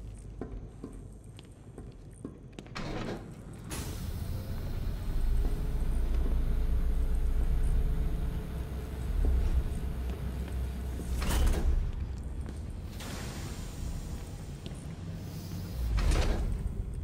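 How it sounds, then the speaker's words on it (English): A heavy vault door slides shut in a Batman video game, a long, low mechanical rumble with clanks near the start and a couple of sharp metallic bangs later, loud and close. "I need to shut the vault door first."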